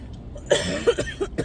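A person coughs several times in quick succession, close up, with short sharp bursts and brief pauses between.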